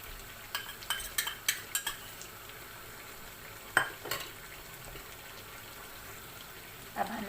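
Garlic ginger paste, two tablespoons, fries in a pan for chicken and potato biryani, with faint sizzling under a series of short, clinking stirs against the pan and a few louder scrapes.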